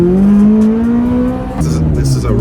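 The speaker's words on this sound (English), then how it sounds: "See, he just hit the gas, I can tell." A McLaren 600LT's engine climbs steadily in pitch under acceleration from inside the cabin, loud and close, then briefly drops as it shifts before pulling again, with a person talking over it.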